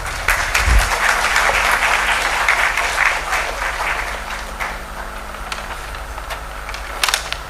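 Sustained audience applause at a healthcare AI summit, a dense loud wash of clapping for the speakers that holds steady and then gradually thins toward the end.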